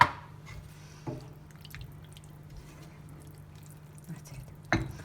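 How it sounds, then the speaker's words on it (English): A tablespoon of water goes into an aubergine sauce in a pan, giving a brief splash at the start, a faint low simmer underneath and a few soft drips and clinks, with no talking. "I'm going to add in here a tablespoon of water just to help the sauce a little bit"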